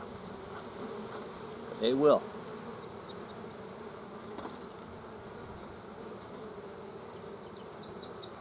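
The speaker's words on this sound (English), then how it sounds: "You get the bees just to run off that." Honeybees buzz steadily around a brood frame lifted from a hive, a soft, close droning hum, with a brief spoken remark over it.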